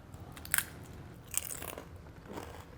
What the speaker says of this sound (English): is just take a big old crunchy bite like this.